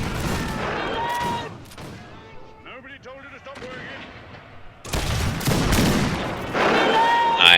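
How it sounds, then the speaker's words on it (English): Rifle volleys crack and boom in a game of the Battle of Isandlwana, dense bursts of massed gunfire that fade into scattered shots, then swell again loudly, with a voice talking over parts of it. "laying another volley here."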